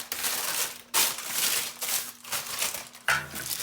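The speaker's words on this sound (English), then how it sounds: "I crumple it up so that when it goes in, it's easier to manage into the pot" Parchment paper for baking sourdough bread is crumpled up by hand, giving a continuous close, crisp crinkling and rustling with brief pauses.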